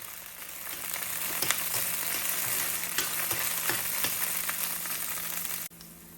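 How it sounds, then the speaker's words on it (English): Green chilies sauteing in hot olive oil in a pan, giving a loud, continuous close sizzle with crackling pops and occasional spoon taps, ending abruptly. "Once it's hot, add the green chilies and saute them for few minutes."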